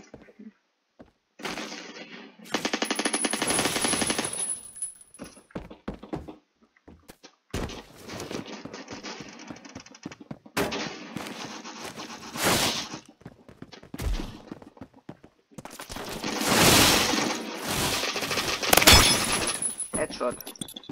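Rapid bursts of Colt LMG machine gun fire in the Roblox shooter Phantom Forces, long sustained volleys broken by short pauses, loud and dense, with a voice talking over the shooting.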